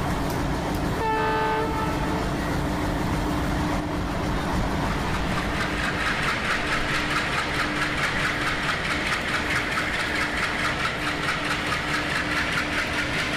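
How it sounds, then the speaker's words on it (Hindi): A Maitree Express locomotive in a train simulator game, shunting around Kolkata, gives a horn blast near the start, then a steady, loud rolling rumble with faint rail clatter. "थोड़ा स्पीड अप करते हैं लोकोमोटिव को"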